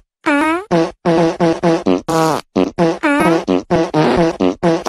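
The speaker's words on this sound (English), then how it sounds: "how could I forget the synchronized fart musical?" A cartoon plays a run of synchronized fart noises, a rapid series of loud, tonal, buzzy blasts in quick rhythm with short gaps, rising and falling in pitch like a musical number.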